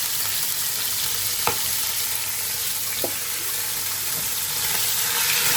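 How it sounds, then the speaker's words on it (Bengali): Ingredients for chicken and prawn fried rice fry over high heat in a pan, giving a constant, even hiss with two brief taps of a utensil. "এটা একটু গরম হলে আমি এটা একটু হালকা করে ভেজে নেব"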